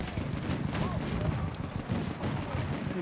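Distant gunfire crackles in bursts through a dense Battlefield 1 sniping-operations battle, constant and busy with overlapping shots and rumble, while a voice talks over it.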